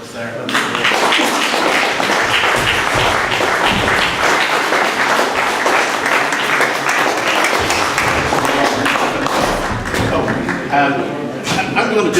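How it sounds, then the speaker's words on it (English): An audience gives a sustained round of applause at an open submission art exhibition, dense clapping filling the room continuously with some voices mixed in. "asking you to give yourselves a round of applause"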